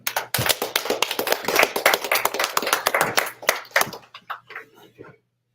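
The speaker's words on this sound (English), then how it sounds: "Clap it up." A congregation claps hands in a fast, steady, loud rhythm at a Feast of Tabernacles closing gathering, then the clapping thins out and stops.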